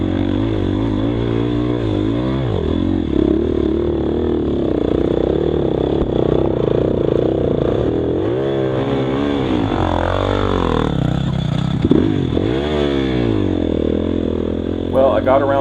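A dirt bike labours up a steep hill during a Frostbite GP race, its engine loud and close, revs rising and falling unevenly as it strains for the whole stretch.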